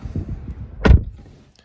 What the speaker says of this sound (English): Now I'm gonna close the doors.